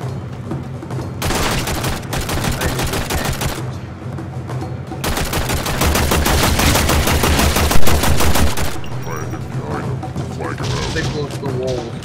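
Rapid bursts of gunfire from the video game Warframe fill most of the stretch, loud and dense with machine-gun-like rattles broken by short pauses, with game voices and talk underneath.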